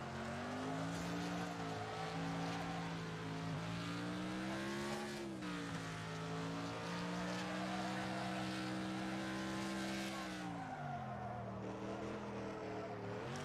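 Racing cars in the video game Wreckfest roar continuously, several engines blending with rising and falling pitch as they shift gears, a steady race drone with no talk over it.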